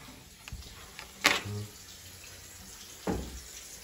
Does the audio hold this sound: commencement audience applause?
no